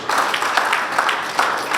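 Crowd applause for a chief judge at a bar association opening ceremony, steady dense clapping close and continuous throughout.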